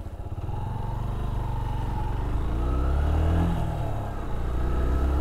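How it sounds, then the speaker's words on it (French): A 2005 Yamaha YBR 125 motorcycle engine drones close up, its pitch sagging as the bike slows during a braking test, then climbing again as it accelerates. "on va faire un petit test de freinage pour voir"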